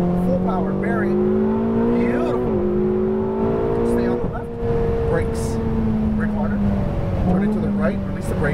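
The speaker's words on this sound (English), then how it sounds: "Accelerate up to that exit cone, full power, bury it." A Ferrari 488 GTB engine drones steadily and loudly at full power, pitch rising and shifting as it accelerates on a track, with someone talking over it throughout.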